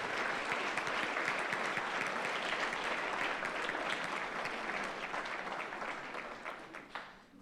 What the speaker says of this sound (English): Can I have a round of applause for our varsity squad?